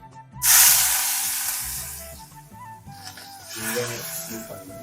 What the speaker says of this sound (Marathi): हां, चांगला जरा कांदा परतवला